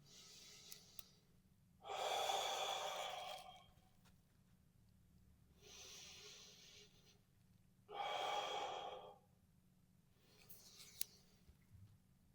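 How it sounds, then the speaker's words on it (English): Slow, deep breaths during a neck and shoulder release exercise, four long close-miked inhales and exhales separated by quiet pauses, with no talking. "I'm breathing in, expanding up through the right side now."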